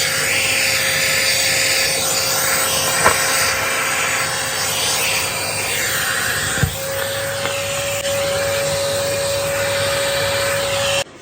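A vacuum cleaner fitted with a multipurpose brush drones steadily while sucking up dust, a loud continuous whine with a few small knocks as the brush moves.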